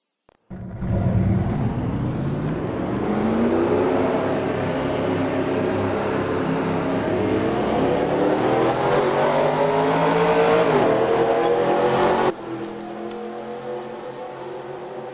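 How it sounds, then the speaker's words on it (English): Several race car engines crank up and rev together in a rising, sustained roar, settling into a steady drone. "Drivers, start your engines!"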